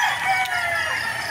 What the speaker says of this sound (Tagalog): Kailangan pa rin patukain itong mga alaga nating mga manok.